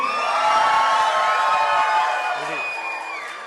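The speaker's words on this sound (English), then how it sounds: "That's not a bad cheer there." An outdoor festival crowd at the Falmouth Oyster Festival cheers for chef Artie in a cooking contest, a loud burst of whoops and shouts that peaks early then tapers off, with voices mixed in.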